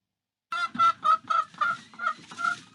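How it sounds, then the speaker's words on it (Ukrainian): A hen clucks in a quick run of about seven short, evenly spaced clucks, close and fairly clear. "Мама курка."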